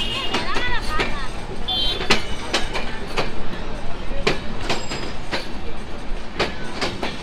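The Kapotaksha Express intercity train travels between Rajshahi and Khulna, its wheels clattering in repeated clicks and knocks along the rails, heard from inside the carriage with passengers talking over the rumble.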